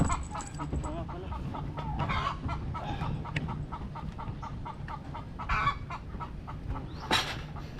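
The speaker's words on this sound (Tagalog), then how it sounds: "Nangingitlog kasi yung manok na yun eh." Hens cackle and cluck repeatedly after laying eggs in a farmyard, with bird calls scattered throughout and a steady outdoor background.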